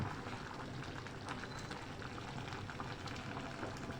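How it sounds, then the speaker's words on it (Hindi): Egg cooking in a simmering mixed vegetable chicken corn soup, with a steady, even bubbling hiss throughout and no talk. "देखें आपके सामने कितना अच्छे से अंडा कुक होना शुरू हो गया।"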